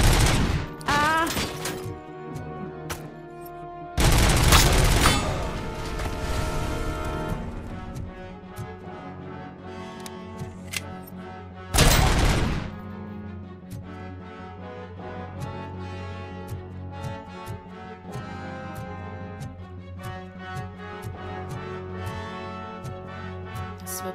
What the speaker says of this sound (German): Schießen ist echt laut, ne?